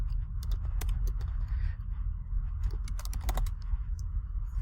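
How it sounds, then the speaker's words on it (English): Rapid, irregular clicking of computer keyboard keys as a web address is typed, close and steady over a low hum, with no talking. "I'll just type it here so you can see it, is easybib.com"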